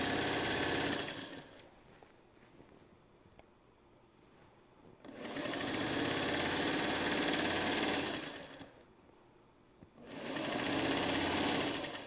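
A sewing machine stitches binding onto a quilt in three steady runs of a few seconds each, close and loud, with quiet pauses between them.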